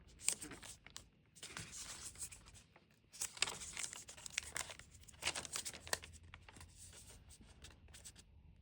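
Tissue paper and cardboard packaging of a CMF Phone 2 Pro box being handled and slid apart, giving bursts of crinkling, rustling and tearing close up, with quiet gaps between.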